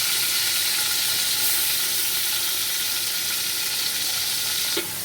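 Onion paste and bay leaves frying in hot oil give a loud, dense, continuous sizzle and hiss that holds steady, close up, until it drops away abruptly near the end; no talking.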